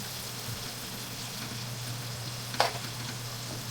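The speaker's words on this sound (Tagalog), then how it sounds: "Para habang nagpapainit ng butter, lumalabas na rin yung katas ng sibuyas." Onions sauteing in melted butter in a pan: a faint, steady low sizzle with a steady background hum and one brief clink near the end, quiet and close.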